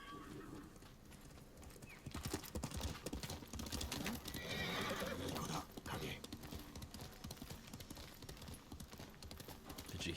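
Horse hooves clip-clopping and a horse neighing in the Ghost of Tsushima video game, with quick rhythmic hoofbeats under the music and a whinny in the middle, fairly quiet overall.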